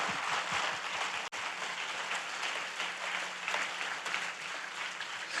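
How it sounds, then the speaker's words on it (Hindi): A church congregation clapping during a sermon, a continuous dense wash of hand claps from many people, fairly quiet and even, with a brief dropout partway through. "Your clapping is suspicious."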